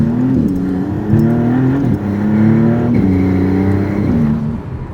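A twin-turbo V6 car accelerates hard through several gear shifts, its engine note climbing in pitch repeatedly with brief drops between shifts, close and loud, with turbo whoosh over the engine roar.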